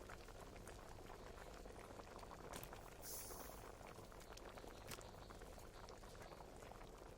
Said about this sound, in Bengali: ডাল আর ফুটে গেছে